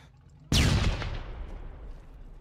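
A single heavy video game gunshot or blast strikes sharply, then rumbles and decays over the next two seconds, loud and close.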